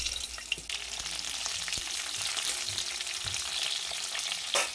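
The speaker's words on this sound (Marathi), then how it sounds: "कढईमध्ये तेल टाकून जिरे मोहरी कडपत्ता टाकला आहे आणि आपण सर्व भर भरलेल्या दोडक्याच्या फोडी त्याच्यात टाकून घ्यायचे आहे" Stuffed ridge gourd pieces fry in hot oil with cumin, mustard seeds and curry leaves in a kadhai, giving a close, steady crackling sizzle with a few light taps, and nobody speaking.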